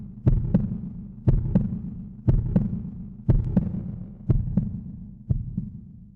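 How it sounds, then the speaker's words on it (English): A slow, steady heartbeat from the video game Parasite Eve thumps in paired beats about once a second, deep and resonant with a low hum beneath, repeating six times. "a heartbeat is heard and fades"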